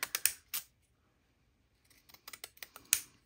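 Quick snipping clicks of scissors cutting paper, a few sharp cuts at first, a pause of quiet, then a faster run of snips.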